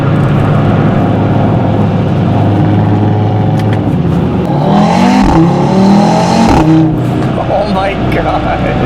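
A stock Audi RS3 engine pulls hard while driving, rising and falling in pitch as it revs through gears, loud and close inside the car, with someone talking over it.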